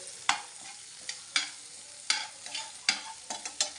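Medicinal greens frying in a pan as they are stirred, sharp repeated scraping strokes over a low sizzle, close up and irregular, with no voices.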